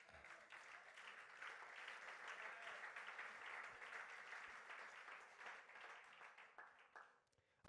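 A church congregation applauds to acclaim the Lord, many hands clapping steadily at a moderate distance for about seven seconds before the applause dies out.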